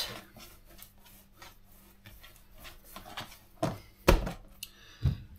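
Bread dough for baguettes being divided into pieces on a kitchen worktop, with soft rubbing and scraping, then a few louder thumps and scrapes near the end, close and fairly quiet.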